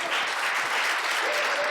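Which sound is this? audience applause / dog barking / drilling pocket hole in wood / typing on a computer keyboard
audience applause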